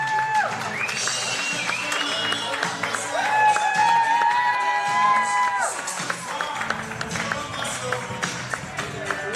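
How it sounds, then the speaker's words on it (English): Applause and cheering ring out for the Australian women's team after their win over Japan in a football final, a broad crowd roar with clapping under loud overlapping commentary and whistles that carry on throughout. "The Australian players applauded off"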